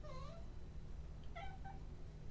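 A cat meows twice in short, rising calls, close by, over a steady low hum with no talk.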